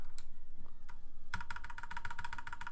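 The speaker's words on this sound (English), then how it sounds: "bought a NOM60 for the impeccable keyboard sound" Rapid clacky keystrokes on a NOM60 mechanical keyboard, a few isolated presses first, then a fast steady burst of typing, close and crisp.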